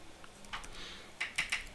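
A few soft, quiet keystrokes on a computer keyboard, scattered clicks with a short cluster of taps near the end while text is entered in Photoshop.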